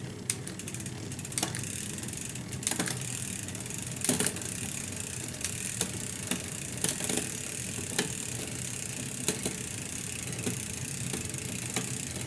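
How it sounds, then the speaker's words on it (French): A mountain bike rear derailleur shifting through the gears, with the chain skipping slightly, gives quiet clicking and ticking over a soft drivetrain whir. Sharp clicks land at irregular moments across the whole stretch. "on voit que les vitesses sautent un petit peu"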